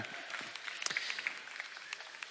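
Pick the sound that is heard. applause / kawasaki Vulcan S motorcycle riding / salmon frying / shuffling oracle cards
applause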